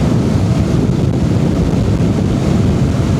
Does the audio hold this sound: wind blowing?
yes